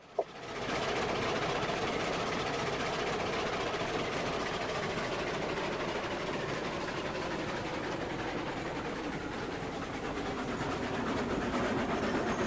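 A passenger train rolling along in the Railroads Online game, a continuous steady engine rumble and rail noise at even loudness after a brief click at the start, with no talking.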